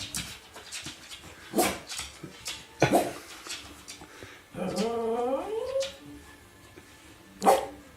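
A small dog yips and whines in short bursts, including one drawn-out rising whimper, close by with light rustling between.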